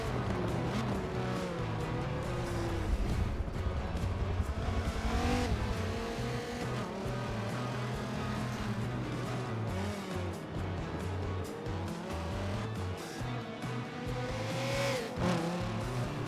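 Race cars lapping the Long Beach street circuit in Forza Motorsport 7, engines revving and shifting continuously with tire squeal and cars passing, loud and sustained without talk.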